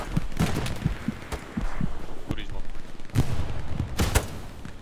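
Several sharp gunshot bursts ring out in the game Hell Let Loose, on the Omaha map, scattered across the clip with crashes between them, and a voice speaks at times in the background.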